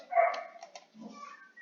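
A dog barks in the background indoors, giving a few short, moderately loud yaps and whimpers in quick succession over about a second and a half.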